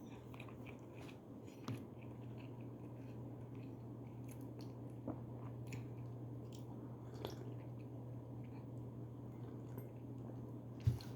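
Soft, close biting and chewing of food, with scattered faint crunchy and wet squishing bites spaced irregularly over a steady low background hum.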